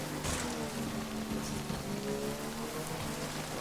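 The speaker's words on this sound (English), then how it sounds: "My bike's gonna be being eroded by this rain though" Steady rain patters across surfaces in the video game Death Stranding, a dense, continuous hiss with a faint low hum underneath, no voices.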